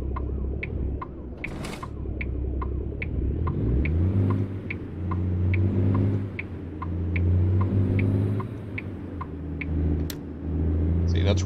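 A big-rig truck engine in an eighteen-wheeler driving game rumbles low and steady, rising and falling as the truck revs and shifts, with regular ticking clicks over the drone.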